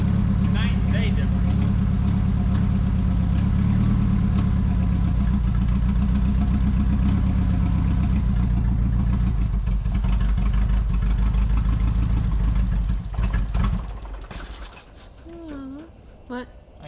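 A Nissan 200SX engine idles roughly and unevenly, a steady low rumble close up that falters and dies away near the end, leaving quiet shuffling.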